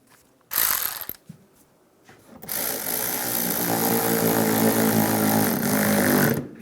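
Bumper end fasteners on a 2007-2013 Chevrolet Silverado being tightened with a ratchet, a brief close burst of clicking followed after a pause by a long steady run of loud, rapid ratcheting.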